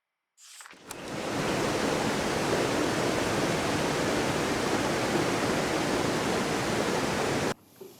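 A waterfall beside a house in the video game Season roars as a steady, dense rush of falling water, loud and unbroken for several seconds, then cuts off abruptly, with no voices over it.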